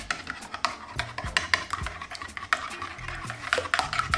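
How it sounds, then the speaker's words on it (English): Yogurt sauce with mint, coriander and toasted black cumin seeds mixed in a bowl, a close run of irregular spoon clinks and taps against the bowl over a soft wet stirring sound. "Give this a really good mix."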